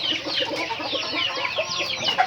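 A flock of young chickens clucks and chatters continuously nearby at evening feeding, overlapping calls forming a busy, lively barnyard chorus.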